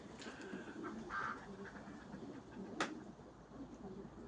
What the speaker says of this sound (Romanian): Porumbei la liber.